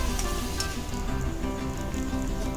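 Brinjal pieces frying in hot oil in a pan for a village-style dried fish and brinjal curry, a steady dense sizzle crackling close and continuous throughout, with no talking.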